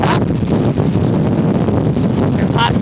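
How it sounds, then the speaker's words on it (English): Strong gusts during Hurricane Helene batter the microphone in a loud, continuous roar of wind buffeting, rushing noise that never lets up, with a voice barely audible beneath it. "the wind gusts still starting to pick up here as the dirty side of the storm makes its way here"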